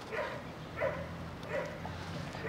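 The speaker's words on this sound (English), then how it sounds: "dogs are fighting over there" Dogs fighting and barking a short way off outdoors, several bursts of rough barks and yips recurring roughly every three quarters of a second over a steady low background hum.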